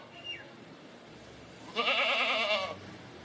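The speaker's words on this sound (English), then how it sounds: "Look at the goats." A goat bleats once in a loud, wavering cry, preceded by a faint brief call and quiet background.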